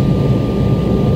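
Jet airliner taxiing toward a gate after landing at Haneda Airport, heard from inside the cabin as a steady, loud, broadband engine rumble with no voices.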